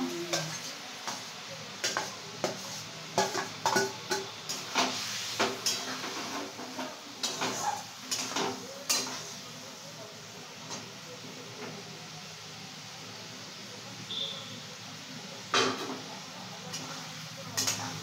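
Fried potatoes, carrots, cauliflower and beans are stirred in a pan for navratan korma, giving repeated soft scraping clinks of a spoon against metal over a faint sizzle, spaced irregularly.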